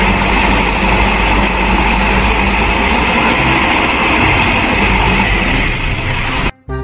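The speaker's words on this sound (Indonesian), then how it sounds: "Mobil dump truck." A toy dump truck's engine sound effect plays as a loud, steady mechanical drone for several seconds, then cuts off abruptly near the end.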